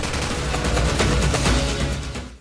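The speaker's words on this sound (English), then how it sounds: "Every time you squeeze that trigger, it sounds like a battery of howitzers going off." Full-auto fire from an M249 SAW squad automatic weapon in Call of Duty 4, a dense, continuous, loud burst of rapid booming shots sustained throughout before cutting off abruptly at the end.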